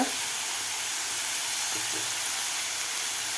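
Chopped onion sautéing in a pan as asafoetida goes in, for a Nagpur-style Savaji dal-onion dish, giving a steady, even sizzle and hiss close by with no voices.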